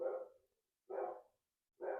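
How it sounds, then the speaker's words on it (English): A dog barks three times close by, evenly spaced single barks with silence between them, no other sound around. "Forgive the barking, you guys."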